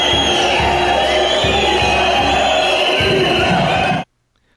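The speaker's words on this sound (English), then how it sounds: "mostly people peacefully walking down the street. Big crowd, though." Large crowd of anti-restriction protesters marching down a street in Switzerland, a dense, steady roar of many voices with scattered shouts and cheers, loud and continuous before cutting off abruptly.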